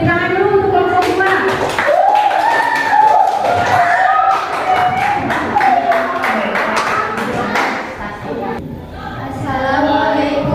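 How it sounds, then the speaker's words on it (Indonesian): Classmates in a classroom clap for a student group during a math lesson assessment, a burst of mixed hand claps and thuds heard alongside overlapping speech and children's voices throughout. "Tepuk tangan dulu untuk kelompok 2."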